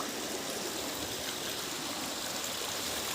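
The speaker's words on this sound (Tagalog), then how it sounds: "Sa sapa, pwede naman maligo guys." A natural stream flows steadily, its water rushing and trickling as a continuous, close broadband wash with no pauses and no voices.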